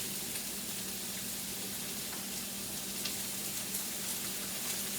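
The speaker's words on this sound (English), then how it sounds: "let the zucchini saute" Zucchini sautéing in a pan, salted and browning over lowered heat, makes a soft, even sizzle that holds steady throughout with faint crackles and no talk.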